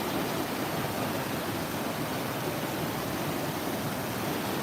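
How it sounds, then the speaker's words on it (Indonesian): Strong river current rushing beneath an emergency bridge at Koto Rawang, a dense, steady roar of water that holds at an even level throughout with no break. "Sungainya cukup kuat sekali sana."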